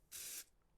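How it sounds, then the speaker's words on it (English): A single short, close hiss of a spray paint can in a video game, a soft burst lasting under half a second. "I'll spray paint it as I go across."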